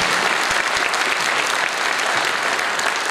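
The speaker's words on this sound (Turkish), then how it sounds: "kahraman Mehmetçiklerimizi kocaman alkışlayalım" A large audience applauds soldiers with a dense, steady roar of clapping that stays loud and even from start to finish.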